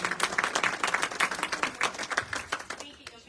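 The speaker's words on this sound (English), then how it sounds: "let's give her a round of applause" Lively applause from a small audience at a fall fashion show, made of distinct, fairly close individual claps in quick uneven rhythm, fading near the end.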